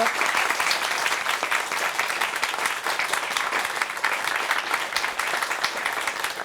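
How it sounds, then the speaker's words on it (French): Audience applause in a hall, greeting performers from Alta Rocca in Corsica who are about to play; steady, dense clapping from many hands fills the whole stretch at an even, fairly loud level. "On peut les applaudir, ils vont jouer avec nous ce soir"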